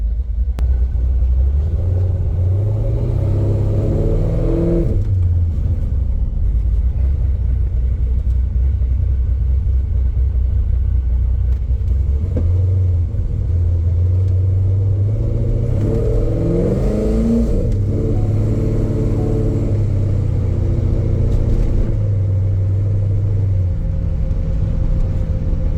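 A Corvette C5 fresh from a transmission install drives along, its engine rumbling steadily with two clear revving accelerations that rise and fall through the gears, loud and close throughout with no talking.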